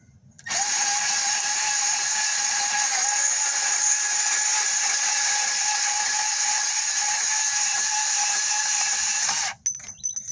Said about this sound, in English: I'm going to cut real quick with the baby guy here.